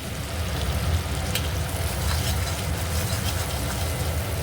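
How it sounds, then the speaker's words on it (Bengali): Onions frying in oil in a pan, a steady, continuous sizzle and crackle that stays close and even throughout, with no talking. "ওদিকে পেঁয়াজটা ভাজা হোক"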